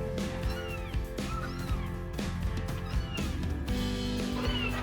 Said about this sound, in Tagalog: Umiyak naman yung mga kuting ko.